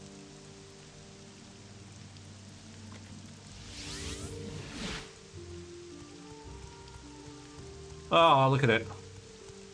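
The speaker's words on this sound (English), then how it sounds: "Oh, look at this refreshing rain." Steady rain pours in the Morrowind game world, a constant hiss of drops on surfaces that holds throughout, with someone speaking briefly over it and a short burst of game music chiming near the end.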